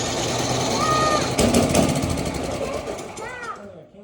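A snowblower engine is cranked while someone tries to start it, giving a loud rough mechanical chugging and rattling that fades out at the end. Voices talk over it.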